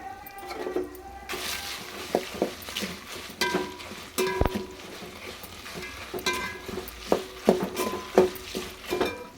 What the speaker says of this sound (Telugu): ఇప్పుడు ఎండుమిర్చి అది నూనెలో వేయించాలి